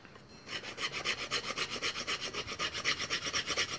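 Rat-tail file rasping steadily on Osage orange wood during wand carving, a quick regular back-and-forth rhythm of about a dozen close, bright strokes after a brief quiet start.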